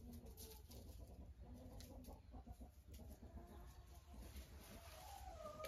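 Araucana hens and a local hen with an Ameraucana cluck in a greenhouse at a country dacha, soft, irregular calls scattered over steady background noise, with no talking.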